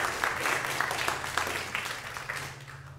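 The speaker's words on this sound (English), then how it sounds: "Let's clap again." A church congregation at a traditional Sunday worship service claps together, a fairly faint, steady patter of many hands heard from a distance over a low constant hum in the room.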